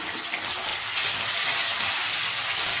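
Garlic, green chillies and onion sizzle loudly in hot oil, a steady dense hiss of frying close up with no pauses or talk.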